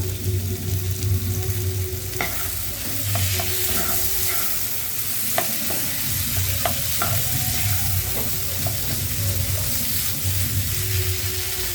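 Potatoes stir-fried with turmeric and spices in a pan for Odia aloo dum: a steady close sizzle broken by scattered clicks and scrapes of a spoon stirring.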